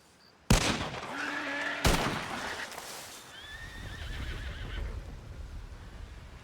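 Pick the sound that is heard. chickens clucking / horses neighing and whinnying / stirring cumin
horses neighing and whinnying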